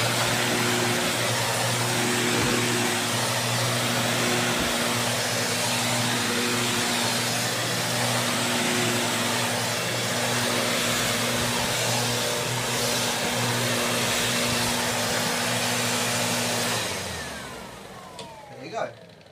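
Sebo 300 Evolution commercial upright vacuum cleaner running steadily and loudly close by, a broad roaring whine with a constant motor hum, then switched off and winding down near the end.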